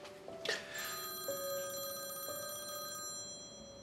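A telephone rings indoors in a quiet room, with a few bright electronic chimes repeating steadily and no talk over them.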